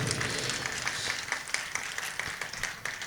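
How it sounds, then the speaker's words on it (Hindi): A crowd applauds continuously at a Jain temple foundation-stone ceremony in Madanpuri Colony, Saharanpur, a dense, even patter of many hands clapping at moderate distance, fairly soft throughout. "तालियां बजने लग जाएं"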